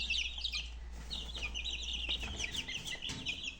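Young goslings and chicks peep in quick, high chirps, scattered and overlapping, moderately near, over a steady low hum, with no one speaking.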